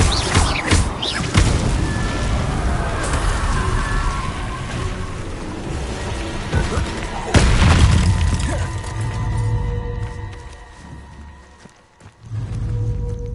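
A fire spell is cast repeatedly in the Hogwarts Legacy video game, producing a loud, steady roaring burst with crackling and booming impacts that swell and fade over several seconds, backed by constant game ambience.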